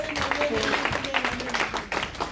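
A church congregation claps and cheers during a sermon, steady applause spread across the room with voices shouting and calling out over it.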